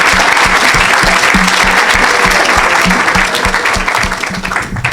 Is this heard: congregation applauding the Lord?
yes